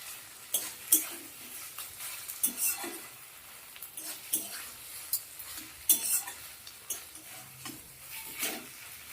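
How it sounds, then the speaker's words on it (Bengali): Ridge gourd with shrimp fries on high heat in a pan. A constant sizzle runs under repeated rhythmic scrapes and clinks of a spatula stirring, close up, with no talking. "খুব সুন্দর করে গ্যাসটা বাড়িয়ে ভাজা ভাজা করে নিতে হবে"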